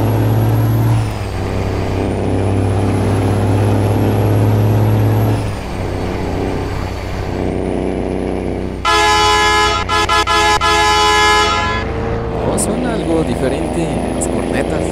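A yellow Bluebird school bus with modded horns drives in a video game. Its engine drones steadily, then a loud, brassy multi-tone horn blares for a few seconds, with a voice talking over it.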